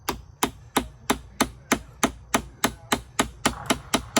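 A hammer drives wooden wedges in to squeeze a piece together outdoors, making a steady series of about thirteen sharp, evenly spaced strikes, close and loud, with no talk.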